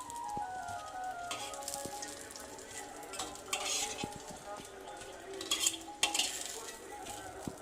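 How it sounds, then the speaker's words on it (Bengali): Fried eggplant slices lifted from hot oil in a pan, with a steady sizzle and frying crackle under scraping spatula stirs and occasional clinks of utensils against the pan. "তুলে নিচ্ছি আমি এবারে বেগুনগুলোকে।"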